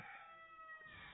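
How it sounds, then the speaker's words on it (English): A Swedish Flower rooster crows in one long, strained call close by at a livestock auction market, set against faint background chatter and farmyard noise. "Swedish flower Moran rooster."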